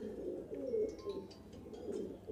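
Madrasi pigeons in a loft, soft continuous low cooing from several birds close by, with faint chirps above.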